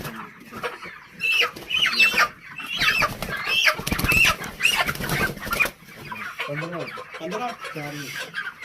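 Broiler chickens from a 41-day flock cluck and squawk in a busy, close chorus on a farm loading day, with bursts of wing flapping and a few higher calls toward the end.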